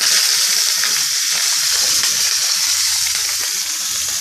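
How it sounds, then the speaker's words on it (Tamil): Hot ghee tempering with cumin, asafoetida powder and curry leaves sizzles loudly and steadily as it is poured over Kanchipuram idli batter, a bright continuous crackling hiss with no pauses. "இந்த சூடான நெய்யை இதில் விட்டுருங்க"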